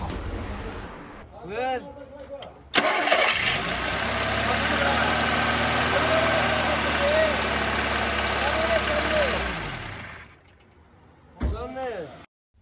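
A rebuilt car engine starts and idles steadily for several seconds before cutting off, with short bursts of voices before and after.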